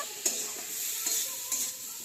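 Continuous hissing sizzle of cumin powder frying in a pan, with a few soft stirring scrapes at intervals.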